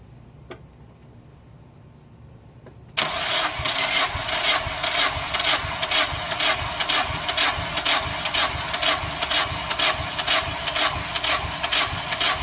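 A 2001 Mazda Miata engine turns over on the starter during a wet compression test, after a quiet moment. The cranking is a steady, rapid, rhythmic whirring that runs loud and close for several seconds.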